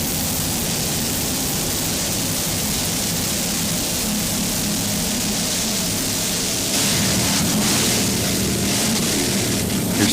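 A V Limited Super V class racing powerboat tears past on rough seas near Deerfield Beach Pier during an offshore race. Its loud, continuous engine roar blends with rushing water and wave wash and swells louder toward the end.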